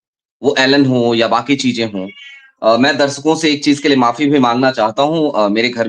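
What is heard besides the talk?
pet cat meowing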